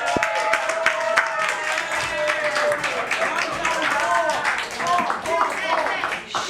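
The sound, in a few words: audience clapping and applause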